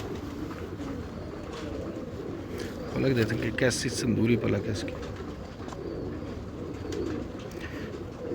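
Prized champion pigeons coo softly in a loft, the cooing rising for a moment in the middle beneath steady conversation from nearby men.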